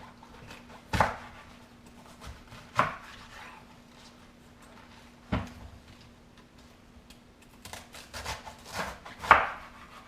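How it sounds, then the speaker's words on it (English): Knife chopping through a quartered head of cabbage for kimchi, with four or five sharp, separate cuts spaced a second or two apart, close and crisp over a faint steady hum. "So this works best if you quarter the head of cabbage."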